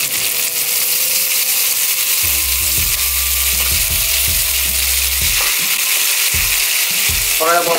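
Meatballs and chicken sausages glazed with sauce sizzle in a pan over medium heat, a dense, steady frying hiss with occasional low knocks and clinks of utensils against the pan.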